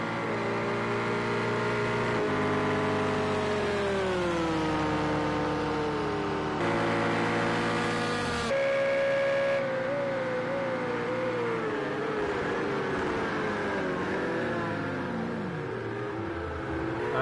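A Corvette GTE race car engine from Project Cars 2, racing in an endurance event at Fuji GP, revs loud and close, climbing and dropping through repeated gear changes with brief shifts and throttle lifts, and no talk.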